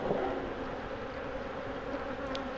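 A steady, dense buzz of many honeybees humming together, continuous and moderately loud with no pauses.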